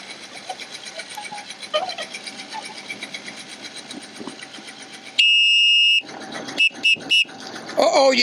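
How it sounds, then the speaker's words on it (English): Whistle blasts signal a sailing match race start sequence: one long shrill blast followed by several short sharp ones, loud over faint outdoor ambience and chirping at a regatta. "I blew those whistles"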